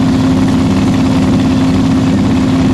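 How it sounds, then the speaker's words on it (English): Twin-turbo LS-powered drag racing wagon engine at a drag strip, a steady loud droning rumble with a strong low hum held throughout, no talk. "So Aiden Bailey, the twin turbo LS powered wagon."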